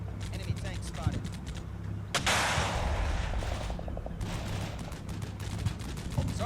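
Artillery fire in the Combat Mission Cold War video game: booming impacts and crackling blasts, with a dense roaring burst in the middle, mixed with radio-style voice chatter.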